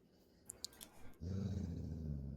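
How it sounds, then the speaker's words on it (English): A few soft clicks, then a low, steady dog growl rumbles continuously up close, a parent dog's growl while holding down a puppy. "So these are just really parenting growls"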